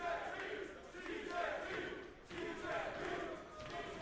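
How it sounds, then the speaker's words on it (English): A loud, vocal crowd at a Showdown in the Sun professional wrestling event roars and yells steadily, with swells of cheering rising and falling under a commentator's talk. "Another loud vocal crowd here at Showdown in the Sun"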